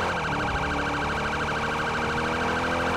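Police siren on a Tahoe patrol vehicle in GTA 5 with the LSPDFR mod, a loud continuous wailing siren running throughout, close, no talk.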